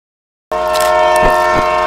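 Falaknuma Express train on its run, a loud steady rumble of the moving train with a sustained horn-like tonal blare, starting abruptly after brief silence; no voices.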